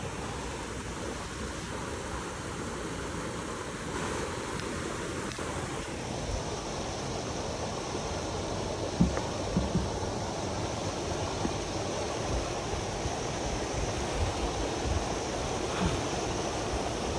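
A steady, broad rush of falling water from Warnagala Ella waterfall in the Peak Wilderness Sanctuary, Sri Lanka, fills the scene without pause, loud and constant, with no voices over it.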